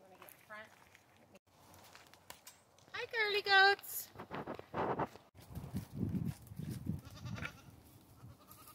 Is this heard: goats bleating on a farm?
yes